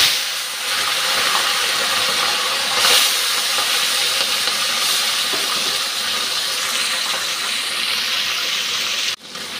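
Small fish coated in turmeric and salt sizzling in hot oil, a loud, steady broadband hiss of frying that holds evenly for nearly ten seconds before a sudden drop near the end.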